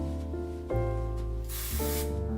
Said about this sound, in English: I'm gonna add a little bit of dry shampoo. I love the Detox Clear by Drybar.